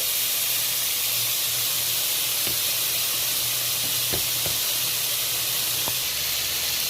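Potatoes fry in oil for a mixed-vegetable spinach dish, throwing off a loud, dense, continuous sizzle with a few soft knocks from stirring and no voices.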